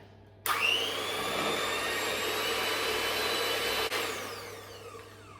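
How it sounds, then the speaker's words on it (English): An electric hand mixer whisks gluten-free chocolate cake batter in a bowl, a steady loud whirring drone that starts abruptly and runs for about three and a half seconds before cutting out, with no talking. "I'm just going to whisk that up until it's nice and smooth and creamy"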